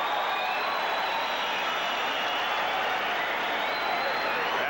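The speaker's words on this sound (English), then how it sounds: "this crowd cheering the action that took place in the second round" Boxing arena crowd at a 1987 Evander Holyfield vs Ricky Parkey fight cheering after round two, a loud, continuous roar with clapping that holds steady throughout.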